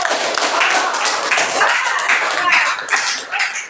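Classroom applause for a student group after their presentation, a steady dense clapping from many pupils with a bit of voice mixed in, continuing at even loudness throughout.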